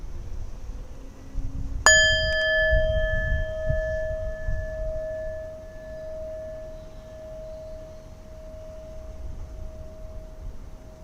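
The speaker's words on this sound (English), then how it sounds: "My wife says that I hit the bell too hard." A meditation bell is struck once. The bright metallic strike rings out into a long, steady, slowly fading tone that sustains clearly for many seconds over quiet room noise.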